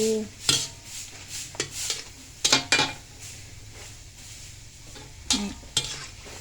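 Purple yam and potato crackers deep fry in plenty of oil, with a steady sizzle broken by several sharp clinks and scrapes of a metal utensil against the pan.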